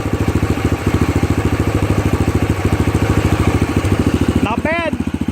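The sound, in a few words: Yamaha TT500 motorcycle engine idling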